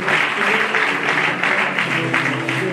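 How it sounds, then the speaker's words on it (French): Steady, loud applause from an audience at an award ceremony for academic excellence, many hands clapping densely and continuously without pause. "Merci d'acclamer."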